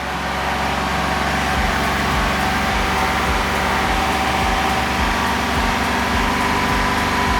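A car engine is held at 2,500 rpm, a steady, loud, continuous hum with a low rhythmic pulsing, unchanging throughout.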